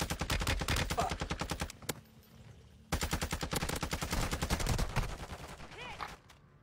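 Rapid automatic gunfire in a shooter video game rattles in two long, dense bursts, loud and close, separated by a short lull with faint background noise.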